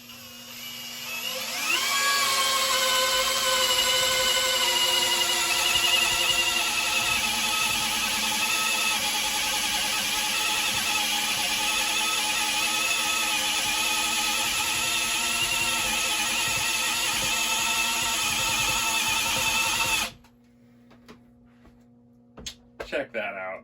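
Hilti SFE 2-A12 cordless drill driver sinking a screw into knotted wood, a steady high motor whine held for about eighteen seconds before stopping abruptly, followed by faint handling clicks.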